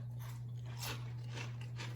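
Several crisp crunching bites into an anise pizzelle cookie at close range, with a steady low hum underneath.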